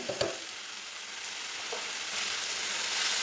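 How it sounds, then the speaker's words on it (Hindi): Red chilli flakes, turmeric, cumin and dried coriander fry in a pan for a yoghurt aubergine dish, giving a steady, close, bright sizzle that swells slightly near the end with a faint stir or clink early on. "मसाले को हम अच्छी तरह भून लेंगे।"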